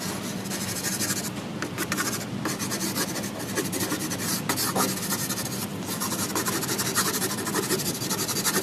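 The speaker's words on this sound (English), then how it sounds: "I can smudge like we did before to get some nice results as well, or with the paper stumps to keep your hands clean" Fingers or paper stumps smudge a pastel drawing on paper, a close, continuous scratchy rubbing with brief stroke-like pauses and repeated passes.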